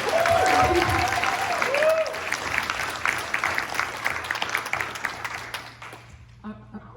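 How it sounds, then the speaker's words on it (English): An audience at an annual convention panel gives a loud round of applause that starts at full strength and gradually thins out, with a voice speaking partway through before it fades. "let's give her a round of applause for being here"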